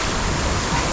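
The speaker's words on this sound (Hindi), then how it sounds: "ये है वाटरफॉल जिसके लिए हमने सारा ये टंटना किया।" The waterfall at Saklikent National Park in Turkey gives a brief burst of dense, even rushing water noise, loud and close.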